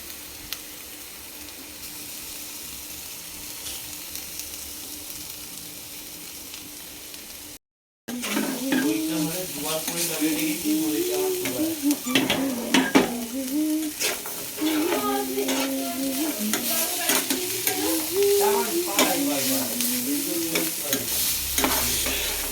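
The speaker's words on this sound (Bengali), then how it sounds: "এবার একটু পনির দিয়ে দিচ্ছি। এগুলো অ্যাকচুয়ালি গ্রেট, পুরো গুঁড়ো গুঁড়ো করে দেবো।" Paneer crumbled into a sizzling pan with steady stirring and scraping, beginning after a short gap; frying hiss and spatula clatter carry on throughout with no one speaking.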